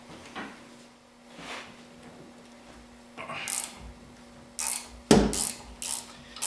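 Metallic clicks and rattles of a half-inch ratchet working on leaf spring bolts above a rear differential come in short, close bursts, sparse at first and then quicker and louder toward the end.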